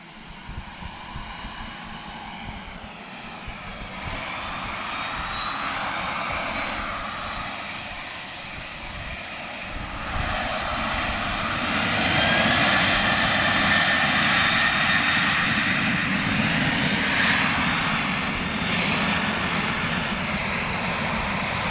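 A Ryanair jet airliner departs Lisbon Airport, its engine roar building steadily and swelling louder midway as it climbs, a continuous broad rumble with no talk over it.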